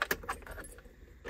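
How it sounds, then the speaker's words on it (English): Key turned in the ignition of a Lectra electric car, giving a close metallic jangle of keys with a few sharp clicks over about a second. "When we turn the key, the only indication that the car is on"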